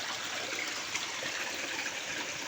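A stream rushes strongly past a cleared bank in a steady, broad, full hiss of flowing water with no break, close and continuous.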